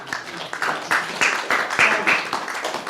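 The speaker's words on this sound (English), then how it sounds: "with a warm round of applause" A small crowd at an art, poetry and music event breaks into scattered applause, claps overlapping unevenly for a few seconds.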